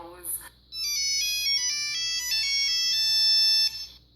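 A Nokia 3310 mobile phone plays a bright, electronic multi-tone ringtone melody for about three seconds, clear and close, after a brief burst of speech at the start.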